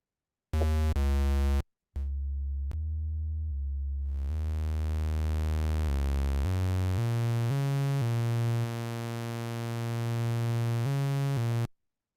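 Sustained VCV Rack synthesizer tones with no gaps, shifting from pure sine to buzzier, richer timbres as triangle and square oscillator waveforms are layered, stepping through several pitches, loud and steady.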